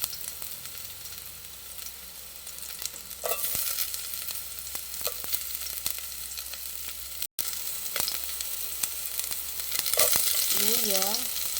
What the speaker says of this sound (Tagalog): Lagay ko na po yung bawang.